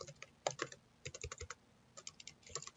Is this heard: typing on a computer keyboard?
yes